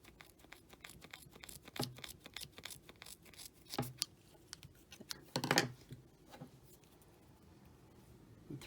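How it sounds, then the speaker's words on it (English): Scissors snipping paracord up close, a few sharp crisp cuts separated by pauses, with quiet handling rustle of the cord between. "and then snip that off with your scissors"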